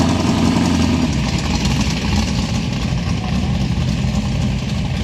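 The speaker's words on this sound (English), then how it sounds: "Beautiful Valiant coming in." A classic Valiant car rolls into a car meet with its engine running in a steady, rumbling low idle, close and fairly loud, along with some background noise from the gathering.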